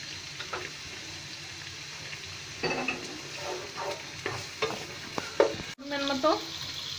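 Vegetables tossed into a pan for a Chinese-style platter sizzle quietly at first, then clatter and scrape as they are stirred, with short utensil knocks and a brief cut before a louder burst of frying.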